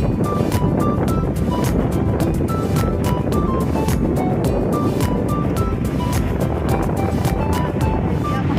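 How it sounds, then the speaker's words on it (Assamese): Sea waves at a beach in Goa, a continuous loud rush of surf with wind buffeting the microphone and faint voices underneath. "ঢৌ চোৱা শুন"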